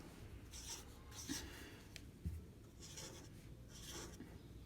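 Pen scratching and rubbing across paper or a board while a molecule structure is drawn, faint and continuous with a few short strokes over a low background hum, no voices.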